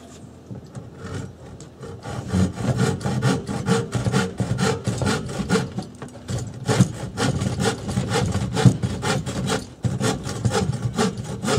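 A Gerber Gator Machete Jr hacks at an inch-thick wooden branch outdoors, producing many rapid, close, sharp chopping strikes in an uneven rhythm with short pauses.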